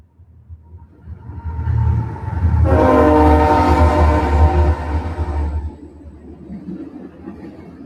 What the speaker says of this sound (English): Okay, y'all, we got the train coming.